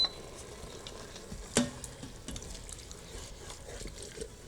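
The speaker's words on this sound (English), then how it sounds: "I'm just going to go over with a wooden spoon and just make sure all the brown bits are not stuck to the bottom of the pressure cooker" A wooden spoon scrapes browned bits off the bottom of an Instant Pot pressure cooker insert while deglazing; the stirring and scraping is faint and soft, with one sharper knock near the start.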